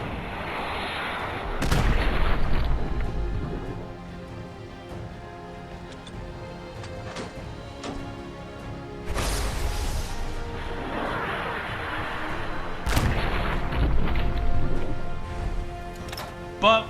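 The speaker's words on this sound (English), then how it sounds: "explosions that I'm hitting this Deathclaw with would be a lot stronger." Rocket and bottle cap mine explosions in Fallout 4, several heavy booming blasts with rumbling tails at irregular intervals, and a faint ticking between them.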